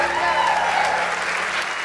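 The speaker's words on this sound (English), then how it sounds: "Another round of applause for us." Audience applause for the Lipscomb University Gospel Choir, a dense, steady wash of many hands clapping at an even loudness throughout, with a faint murmur of voices underneath.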